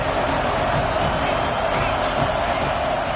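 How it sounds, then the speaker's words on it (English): A packed Auburn college football stadium roars on third down, a dense, continuous wall of crowd noise with scattered cheers and whoops swelling steadily, loud and close without pause. "This Auburn crowd trying to conjure up a little magic here on 3rd down"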